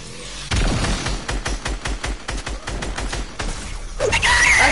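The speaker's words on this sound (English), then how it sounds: "Shoot him down. I'm shooting him." Video game gunfire rattles out in loud, rapid bursts of evenly spaced shots, pausing briefly between volleys before a final harsher burst with a crackling, explosive edge; no voices are heard.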